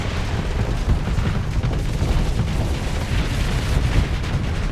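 Rumbling weapon blasts from friendly fire in the space combat game Starsector, a steady loud low boom and crackle running for several seconds with no voices.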